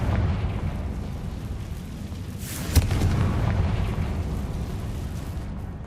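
A fiery Confringo blasting spell goes off in Hogwarts Legacy as one sharp burst over a loud, continuous roaring rumble. The rumble fills the whole stretch, heavy and sustained, and no voice is heard over it.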